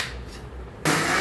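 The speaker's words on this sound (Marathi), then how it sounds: "आता याला मिक्सरला लावून घेऊया" Soaked rice and lentils ground in a kitchen mixer grinder with a little water: a quiet rubbing background gives way to a loud, steady whirring grind that starts suddenly and runs on near at hand.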